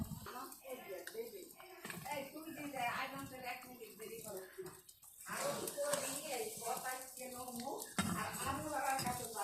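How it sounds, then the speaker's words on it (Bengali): Eggs and pointed gourd go into a pot of curry and get stirred, with metal utensils clanking and scraping against the pot while a person talks over the kitchen noise. "ডিম আর পটলটা দিয়ে দিই।"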